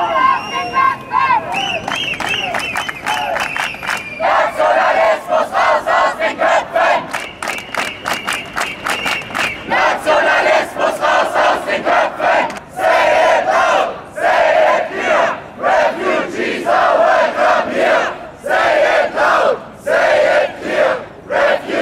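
A large crowd at a political rally in Dresden chants and shouts loudly in rhythmic bursts, with a voice over the sound system at the start and continuous roaring throughout.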